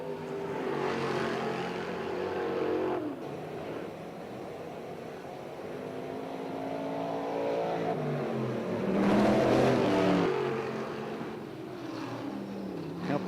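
Race cars lap the short track at Orange County Fair Speedway during a Short Track Super Series event. Engines drone steadily at mid-distance, and the roar swells loudly as cars pass by.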